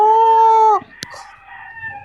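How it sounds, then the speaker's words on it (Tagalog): A rooster crows loudly and close by in a sustained call that ends abruptly, followed by faint clucking and background household noise. "Ay, Diyos ko, mga manok."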